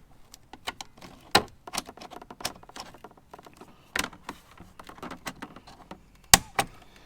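Pneumatic rivet gun setting rivets through a front bumper lip splitter on a BMW F10 M-Sport 5 Series, heard as several sharp, close snaps spread across the stretch with quieter handling clicks and rustles between them.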